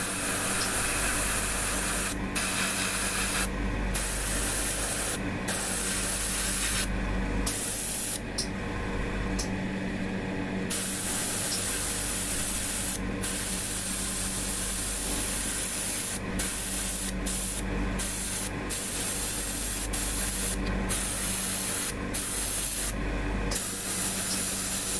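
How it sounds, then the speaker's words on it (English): Dual action airbrush spraying paint onto a Hasegawa 1:72 F-4EJ Phantom II plastic model kit, a close continuous hiss broken by repeated short stops and restarts. "I can't imagine not using a dual action airbrush."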